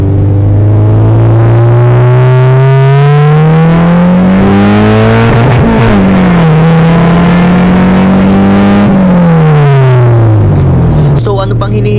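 A car engine captured by a DDPAI Z40 dual-channel dashcam, loud and close throughout, its pitch climbing smoothly as it revs, dipping and rising again, then dropping off with a brief clatter at the end.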